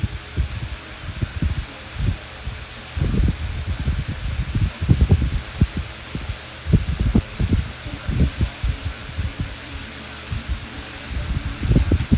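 An electric fan blows air while a ceiling fan runs on medium, giving a steady broad airy whoosh with soft low buffeting thumps and gusts that come and go throughout.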